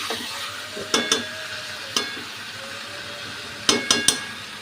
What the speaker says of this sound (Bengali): চিকেনটা আরেকটু নেড়ে দিচ্ছি, ও ভাজা ভাজা হতে থাকবে।